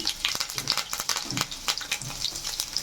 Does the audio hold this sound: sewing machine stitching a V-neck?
no